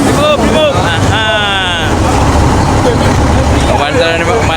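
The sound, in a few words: engine starting after five years unused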